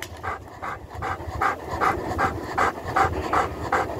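Dog panting hard and rhythmically up close, a steady run of quick, breathy huffs at roughly three per second, loud and continuous, with no talking.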